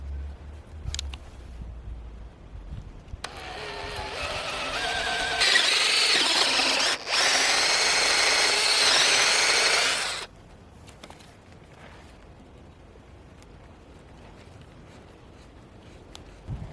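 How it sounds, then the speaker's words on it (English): A power drill whines steadily for several seconds as it bores a hole for an eye bolt in a mobile poultry pen kit, loud and close, then stops, leaving quiet handling noises. "So I'm just going to drill the hole for that and twist it through."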